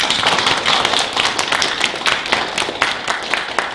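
A church congregation's applause during a Korean sermon: dense, steady clapping from many people, loud and continuous for the whole stretch with no talk over it.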